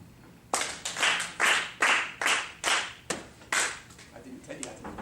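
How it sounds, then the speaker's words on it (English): Group hand claps beat out a binary rhythm, a run of sharp unison claps in an uneven pattern, some doubled, then trailing off into softer, scattered claps near the end. "So very quickly, we're going to clap this rhythm."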